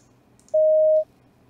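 A single synthesized sine wave tone holds steady at one pitch for about half a second, loud and clean against faint background hiss.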